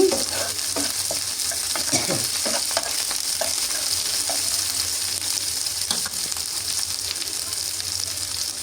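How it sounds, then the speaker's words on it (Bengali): Chopped onions sizzle steadily in a pan while a spoon stirs and scrapes them in short, close strokes near the start, then the even frying hiss carries on alone. "কাটা পেঁয়াজ দিয়ে ভালোভাবে নেড়ে চেড়ে একটু ভেজে নিচ্ছি"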